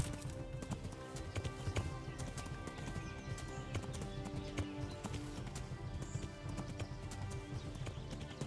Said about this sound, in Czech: tak já tady musím řídit koně